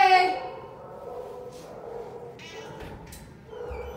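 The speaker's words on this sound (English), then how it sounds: "There's a kitty in the box." A cat meows loudly and drawn-out at first, then gives softer, shorter mews with light rustling around it.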